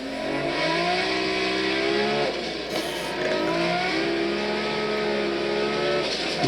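A Toyota Supra engine revs hard, climbing through the gears in rising sweeps with a short break for a shift near the middle, loud and continuous with no talk.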